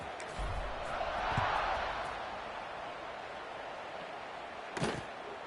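Stadium crowd in the video game College Football 26 before a kickoff: a broad, steady crowd roar that swells slightly, with a few thuds and a sharp slam near the end.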